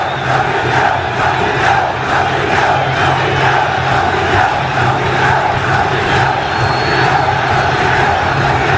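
At a Sudan versus Ghana AFCON qualifier football match in Benghazi, Libya, a stadium crowd roars loudly and continuously after a goal, a dense, unbroken wall of noise.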